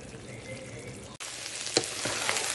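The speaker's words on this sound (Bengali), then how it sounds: "আর এখন একটু ঢেঁড়স আর আলু দিয়ে একটু ভাজা ভাজা করে নিচ্ছি, একটু পেঁয়াজ কাঁচা লঙ্কা দিয়ে।" Okra and potato fry in a pan with onion and green chilli, making a quiet, steady sizzle. Partway through comes a brief cut, followed by a few soft clinks of stirring over the continued frying.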